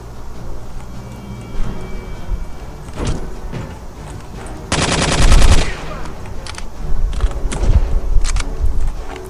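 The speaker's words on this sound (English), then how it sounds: "It feels so good to shoot people in this game." Gunfire in the PC shooter Return to Castle Wolfenstein, with scattered loud shots and one dense rapid automatic burst midway, over steady game ambience.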